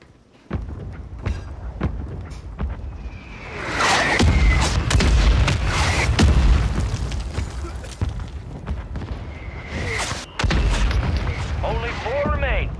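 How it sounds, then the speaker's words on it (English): Several deep booms from a friendly mortar strike in a first-person shooter game land in quick succession, a dense rumbling barrage that swells and fades, with a voice talking over it. "Friendly mortar strike inbound."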